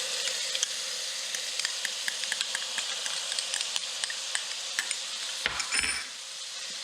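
Garlic sizzles in a hot pan with onions and pepper while being stirred, giving a steady close hiss broken by frequent light clicks and scrapes of a utensil, easing slightly near the end.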